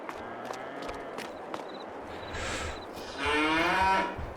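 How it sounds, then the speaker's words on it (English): In the Farming Simulator 22 video game, cows in a barn at night give long, loud moos that swell toward the end, with soft knocks and shuffling in the pen before them. "Let's check on these cows in the dark."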